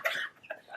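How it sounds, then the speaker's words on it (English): A dog coughs in a few short, raspy bursts, close and moderately loud, with a brief pause between the hacks. "You got whooping cough, dog."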